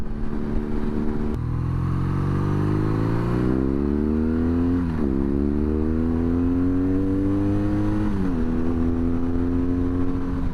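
A 2022 BMW R NineT Scrambler's exhaust drones steadily while riding, its pitch rising and falling as the rider rolls the throttle on and off, close and fairly loud.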